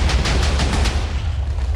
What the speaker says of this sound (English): You can also fly using these explosions.